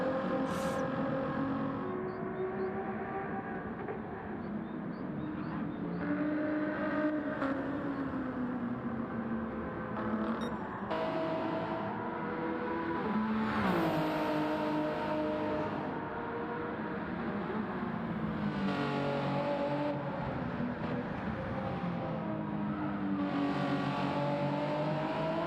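A Ford GT race car engine in a racing video game revs and shifts as it laps, pitch climbing and dropping repeatedly, steady and moderately loud with no voices.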